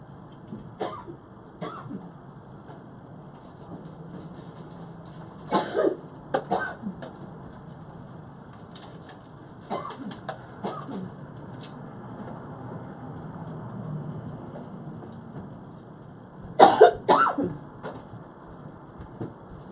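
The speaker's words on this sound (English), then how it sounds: "I'm actually going to grab a cough drop real quick so I don't start coughing uncontrollably" Several bouts of coughing and throat clearing, a few short bursts spread across a quiet room, with one louder cluster near the end.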